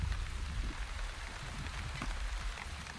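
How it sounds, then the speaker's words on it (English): Light rain in the video game The Wandering Village, a steady soft patter and hiss of drops that runs unbroken, with nothing else over it. "Light rain."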